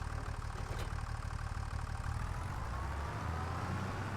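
Tractor engine idling in Farming Simulator 25, a steady low diesel rumble with a fine mechanical rattle, close and continuous, deepening slightly toward the end.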